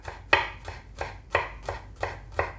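Kitchen knife thinly slicing an onion on a cutting board, producing seven crisp, evenly spaced chops in a steady rhythm, close and clear, with no talking.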